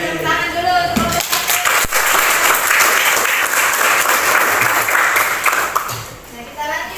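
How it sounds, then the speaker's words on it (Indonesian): Classroom students clap together for a group of classmates, a brisk burst of applause that swells quickly, holds loud and dense, then tapers off, with a teacher's voice briefly heard at the edges. "Beri tepuk tangan dulu untuk kelompok 1."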